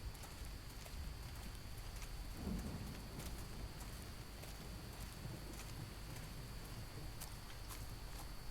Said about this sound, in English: The rain's starting to let up, just in time for sunrise.